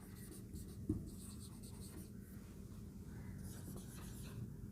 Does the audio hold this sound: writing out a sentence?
yes